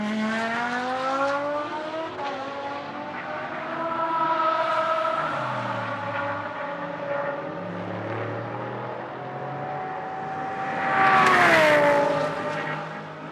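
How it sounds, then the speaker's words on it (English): A GT race car drives during free practice at a Blancpain Sprint Series round in Moscow, its engine revving loudly as it shifts through the gears, then swelling as it approaches and passes, with no talking. "Into the final corner comes Riquelme, looking for the line. Here it comes now"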